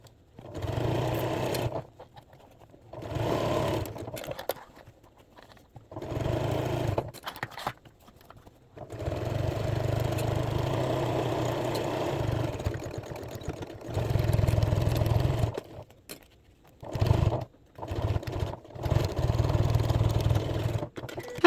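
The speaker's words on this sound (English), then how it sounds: "And then we will go ahead and sew it up." A sewing machine stitches a fabric bag in repeated bursts of steady motor whirring, separated by short pauses, close and moderately loud.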